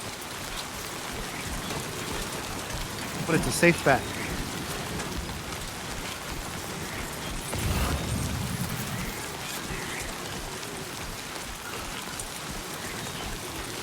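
Steady rain hisses throughout in the video game Death Stranding 2, a continuous wash with a brief rumbling burst partway through, while a voice talks over it.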